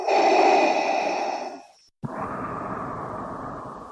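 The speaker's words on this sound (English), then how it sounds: "As we hear the unmistakable raspy breathing of Lord Vader" Darth Vader's raspy mechanical breathing from Star Wars, one long loud inhale that fades, a brief pause, then a harsh exhale, close and alone.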